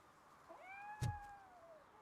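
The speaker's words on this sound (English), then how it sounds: "I'm sure that's a cat." Cat meowing in the video game RoboCop: Rogue City, a single drawn-out, rising then falling meow, fairly quiet, with a short knock partway through.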